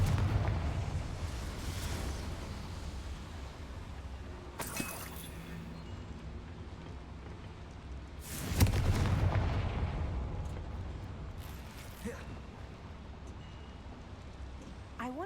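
Spell blasts from the Confringo fire spell in Hogwarts Legacy burst out as several sharp, booming explosions spaced across a steady low background rumble, with the loudest blast around the middle.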